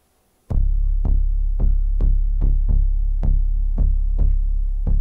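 Heartbeat sound within a played song: a deep, loud thumping pulse repeating about every half second, steady and regular, starting abruptly after a brief quiet moment and continuing with a low hum beneath.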